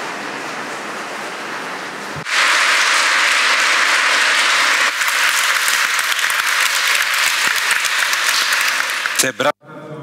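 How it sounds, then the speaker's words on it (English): An audience at a classical education congress plenary session bursts into loud sustained applause after a speech, a dense wash of clapping that holds for several seconds before cutting off abruptly near the end. "This applause is admiration for this musical, theological, philosophical speech"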